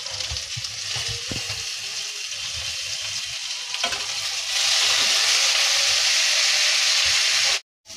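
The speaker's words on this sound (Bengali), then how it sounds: "এখন আলুটা ভাজছি, লাল লাল করে ভাজবো আলুটা।" Potatoes frying in hot oil in a home kitchen, a close continuous sizzle with occasional stirring scrapes that swells louder in the second half, then drops out briefly near the end.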